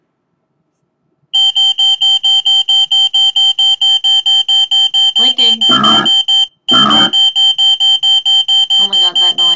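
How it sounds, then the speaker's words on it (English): A shrill, fire-alarm-like electronic beeping from an EEG-controlled video game pulses rapidly and loudly, nearly continuous, while a nearby voice speaks briefly over it and the tone cuts out for a moment. "Sounds like there's a fire alarm going off."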